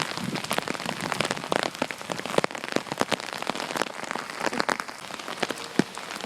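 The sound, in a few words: rain falling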